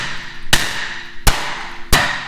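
Three sharp, loud bangs spaced evenly apart, each a broadband crack with a short ringing decay, as a seized brake rotor on a BMW 335i is hammered loose in a garage.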